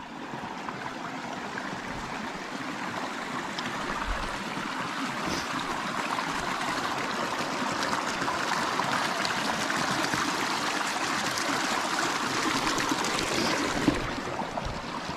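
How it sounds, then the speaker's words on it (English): A creek in spring runs steadily at a forest crossing, a continuous rushing, gurgling wash of water heard close by and fairly loud throughout, with no voices. "Nice little creek crossing here."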